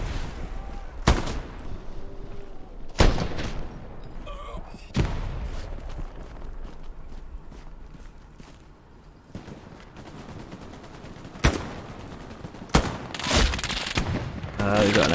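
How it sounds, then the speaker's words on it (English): Gunfire in the Hell Let Loose game, including a machine gun, comes as several sharp bursts and single loud cracks scattered across the span, with a quieter stretch in the middle and voices chatting between the shots. "We got an MG somewhere now."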